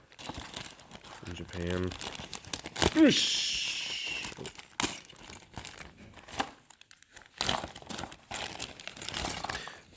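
Plastic booster bags of tabletop miniatures from the Trilaterum starter set crinkle in short bursts between pauses while a person talks over the handling.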